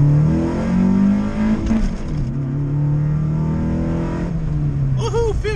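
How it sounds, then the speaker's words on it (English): A Honda Civic EG pulls in first gear from a 20 mph roll, its engine droning loud and steady as the pitch climbs, then drops and climbs again, heard from inside the car with no talking. "Alright, we're gonna do a first gear roll from 20."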